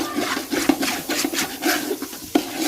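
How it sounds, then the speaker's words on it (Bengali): Pulao rice and peas for chicken pulao being fried and stirred in a pan, steady close scraping and rubbing strokes with a faint sizzle underneath, one sharper scrape near the end. "পোলার চালগুলো দিয়ে দিব এরপর মটরশুঁটি দিব দিয়ে ভালো করে ভেজে নিব চালটা"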